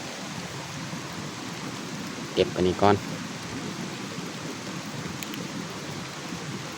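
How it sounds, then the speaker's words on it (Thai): Steady rain hisses down across a chili farm, a constant broadband wash throughout, briefly interrupted by a short spoken phrase near the middle. "ฝนตกนี่บ่หยุดเลย"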